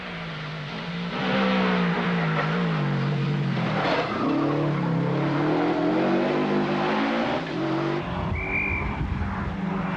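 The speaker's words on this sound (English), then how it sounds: "McRae was throwing the Subaru around" A Subaru rally car is driven hard on a tarmac forest stage at the 1991 Barkston Forest Stages Rally, its engine revving loudly with rising and falling pitch and a tire squeal near the end.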